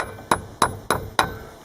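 A hammer tapping a seal into a trailer wheel hub, four evenly spaced metallic knocks with a slight ringing tone, close and clear.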